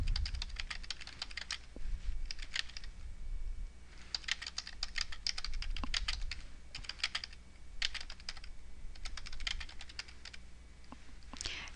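Fingers type on a computer keyboard in quick clustered bursts of clicking keystrokes separated by brief pauses, close and moderately loud over a faint background hum.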